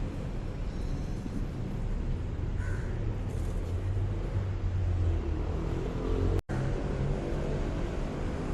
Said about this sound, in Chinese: 那么多乌鸦。